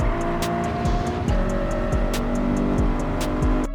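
Lexus LC500 engine in the Gran Turismo 7 racing game, accelerating hard during an online time trial: a loud, continuous engine roar with several quick pitch drops at gear shifts, no talking.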